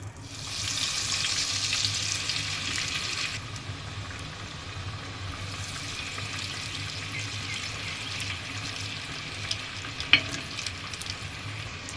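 Raw banana chops frying in hot oil in a home kitchen, a steady soft sizzle with a brighter hiss early on and a small clink near the end, fairly quiet and with no talking.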